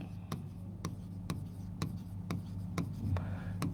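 Chalk or marker on a classroom board: a steady scratching stroke broken by regular sharp taps roughly every half second, close and fairly loud over a low room hum, with no speech.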